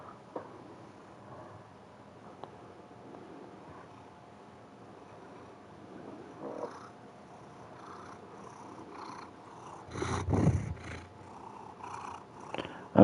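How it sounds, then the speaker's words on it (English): A cat purrs as a faint, steady low rumble close to the microphone, broken near the end by a brief louder rustling burst. "He's purring pretty loud."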